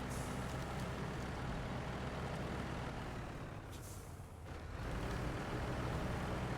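A steady, loud drone from a Kenworth W990 truck engine in Snowrunner, grinding along continuously with a brief dip in the middle, no voices over it.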